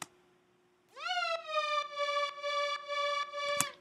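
A hoover synth patch being programmed sweeps upward into a buzzy, layered sustained tone that pulses in a steady rhythm, loud and alone, and ends with a brief noisy burst.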